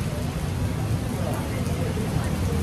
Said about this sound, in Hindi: ये मौसम की बारिश, ये बारिश का पानी।